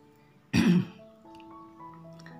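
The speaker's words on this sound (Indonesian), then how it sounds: "rada bedehem-dehem ini" A woman clears her throat once, a short, sharp and fairly close rasp, followed by quiet faint background tones.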